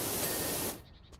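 A pressure washer nozzle sprays in the video game PowerWash Simulator, a dense, even hiss of water that cuts off abruptly after about three quarters of a second, leaving faint scattered ticks.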